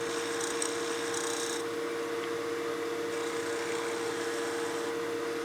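A skew chisel cutting wood on a lathe gives a steady hum from the spinning workpiece, with a thin, hissing scrape that comes in two stretches as the blade rides the surface.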